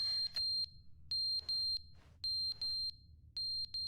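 Video game fire alarm from The Stanley Parable giving sharp high-pitched beeps, some single and some in quick pairs, with short gaps between them and a faint hiss of noise in the background.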